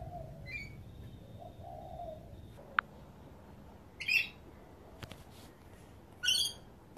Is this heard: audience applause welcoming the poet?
no